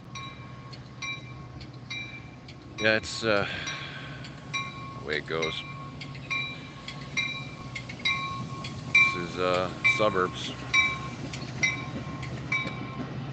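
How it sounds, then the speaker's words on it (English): A train rolls past nearby with rhythmic clacking wheels and metallic squeals, while someone talks briefly over the noise. "I could show this train coming by."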